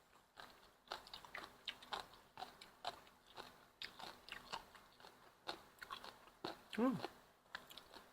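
Close, crunchy chewing and biting on dried squid eaten with rice, in steady bursts with a brief vocal sound partway through.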